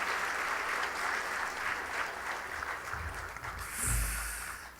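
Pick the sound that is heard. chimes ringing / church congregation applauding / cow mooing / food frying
church congregation applauding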